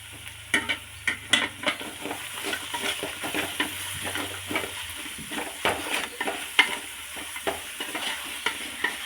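Chicken curry masala with salt stirred in a hot pan, a spoon scraping and tapping in quick repeated strokes over a constant frying sizzle, close and clear.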